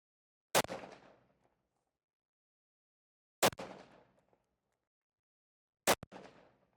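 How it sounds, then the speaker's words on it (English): Three sharp, loud rifle shots from a 7mm PRC firing 61 grain handloads, spaced a few seconds apart, each one cracking and then echoing away into quiet. "Now we are on the 61 grain loads, and we're going to be shooting the bottom right."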